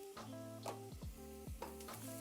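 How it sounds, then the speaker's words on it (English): Chopped garlic sizzles in a frying pan as a faint, steady hiss, with a couple of stirring scrapes over a musical background. "Now we're gonna throw in our nice chopped garlic"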